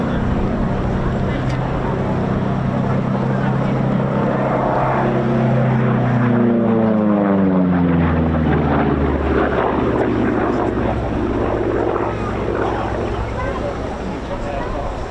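A P-47 propeller fighter flying at the RAF Cosford air show, its radial engine droning loudly and sweeping in pitch as it passes, under continuous commentary.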